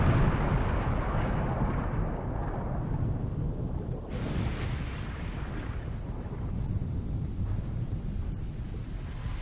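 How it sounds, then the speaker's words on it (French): An ammunition depot explodes at night after a HIMARS missile strike: a dense, continuous roar of rumbling blasts and crackling detonations, loud and sustained, with a brighter burst partway through and no talking. "Une frappe nocturne précise du missile HIMARS a provoqué une série d'explosions spectaculaires"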